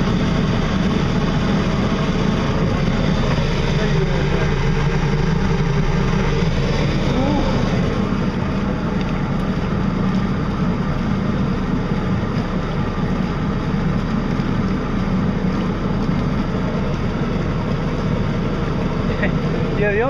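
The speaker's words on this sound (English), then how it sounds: "I could feel the boat vibrating against my back." A Zombie Chopper boat's engine runs steadily underway with a continuous low rumble and drone, close and loud for the whole stretch, with a voice talking over it at times.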